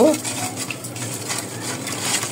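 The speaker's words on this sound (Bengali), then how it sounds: "তো এখন এভাবে ডিমটাকে মিক্স করে নিব" Eggs being stirred and mixed in a bowl for chocolate donut batter, a steady soft scraping and whisking close by that runs continuously for a couple of seconds, with faint clinks against the bowl.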